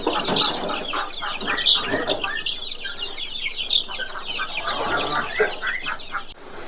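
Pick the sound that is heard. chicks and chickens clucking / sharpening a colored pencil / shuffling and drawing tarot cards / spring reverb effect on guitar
chicks and chickens clucking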